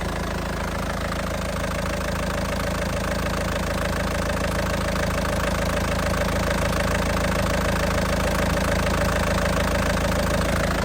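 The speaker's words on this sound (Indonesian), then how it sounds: "suara mesinnya masih sangat pulen dan tidak pincang ya, stabil banget ya" A 2008 Isuzu Panther LS diesel engine, warmed up, idles with a steady, even mechanical clatter and a low hum. It sounds close and constant, with no misfire or stumble.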